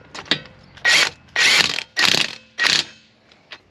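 Impact wrench running lug nuts onto aluminum car wheels, with four loud rattling bursts of hammering, each about half a second long and separated by short pauses, close by with no talking.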